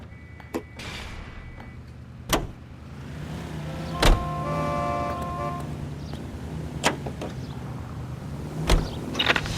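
A car drives in the video game L.A. Noire, a low steady engine drone running throughout with several sharp knocks and thumps and a brief tonal whine in the middle.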